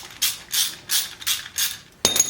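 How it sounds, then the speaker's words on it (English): Rhythmic ratcheting clicks from a wrench loosening a brake caliper bolt on a Harley-Davidson Road Glide, five even bursts and then a sharper metallic clatter, close and without speech. "we're going to unbolt that one bolt"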